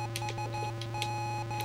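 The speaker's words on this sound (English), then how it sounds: "Go backwards and beep the horn." A bus horn beeps repeatedly in the Sega Mega Drive game Crazybus, a steady electronic tone pulsing in quick regular bleeps over a constant low synthetic hum.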